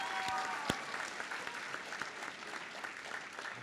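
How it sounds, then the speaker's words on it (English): A small round of applause from a convocation ceremony audience, scattered hand claps filling a large hall steadily for a few seconds, with no talking on top. "she still deserves a small applause"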